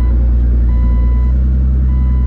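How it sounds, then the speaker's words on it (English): A steady electronic warning beep chimes from a Jeep's dash while it drives with the parking brake still set, loud tones repeating over a constant low rumble of engine and road noise. "Scott set my parking brake and I got in my Jeep and all of a sudden my brake light's on."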